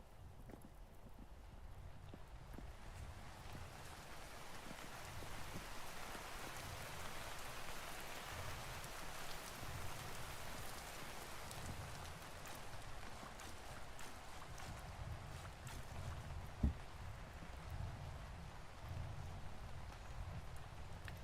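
Steady rainfall in the video game Vintage Story, an even, continuous hiss of drops with no voices and one brief sharp knock near the end.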